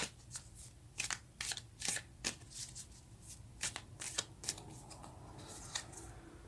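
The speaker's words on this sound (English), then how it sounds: "let's get a card for the Nine of Pentacles." Tarot cards shuffled up close in a quiet room, a run of crisp riffling snaps and flutters coming in uneven bursts, with no voices.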